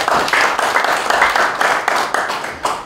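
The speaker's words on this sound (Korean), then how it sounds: "박수하겠습니다" A church congregation claps steadily, many hands blending into continuous applause that holds at a fairly loud level throughout.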